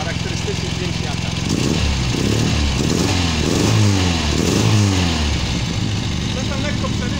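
An idling 1980 Polski Fiat 125p engine with the choke partly out, running with a slight stumble. It makes a steady, close, throbbing rumble, and muffled voices are heard over it.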